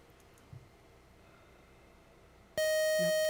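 A single quiz-bowl buzzer sounds loud and sustained near the end, cutting in abruptly after a quiet room with faint background noise.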